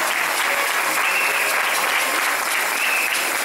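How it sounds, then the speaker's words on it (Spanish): Audience applause at the Miss Teen Venezuela Mundo 2019 gala crowning, a steady dense clapping that fills the whole span without letting up. "Aplausos para Verónica."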